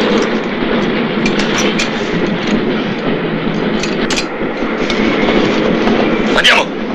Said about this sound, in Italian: Dobbiamo fermare il treno